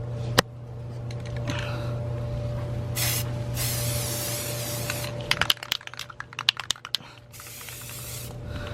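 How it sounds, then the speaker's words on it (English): An automotive gray Rust-Oleum primer spray can is test sprayed before priming a 1969 C10 truck: several short, close hissing bursts, then a rapid run of quick clicks and taps. "we're gonna get some test sprays going with this automotive gray rustoleum primer."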